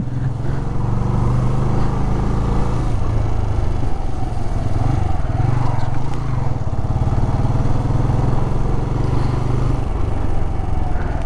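A Bajaj Freedom 125 CNG motorcycle engine runs steadily at close range with a constant loud drone, slight changes in pitch suggesting gear shifts as it rides.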